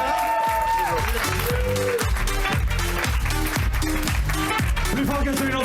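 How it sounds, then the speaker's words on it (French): Applause from a comedy show audience runs under loud music with a thumping beat, the clapping partly buried by the steady rhythmic bass throughout. "On peut applaudir"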